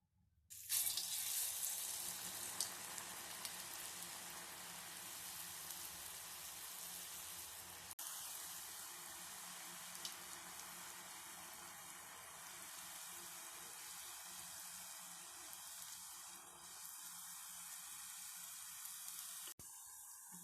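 Achu murukku batter on a mould fries in hot oil, giving a steady, quiet, hissing sizzle that runs unbroken throughout.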